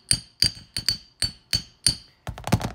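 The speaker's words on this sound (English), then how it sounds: "hammering it out flat" An auto body hammer strikes wire on a hard surface, flattening it for a miniature diorama stair railing: six crisp, ringing metallic blows in a steady rhythm, close and loud, then a short cluster of duller knocks.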